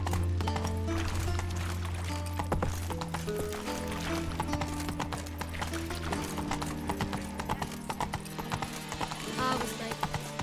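Roach, a horse in the video game The Witcher 3, gallops with a rapid, continuous clip-clop of hooves, close and fairly loud, with a brief whinny near the start.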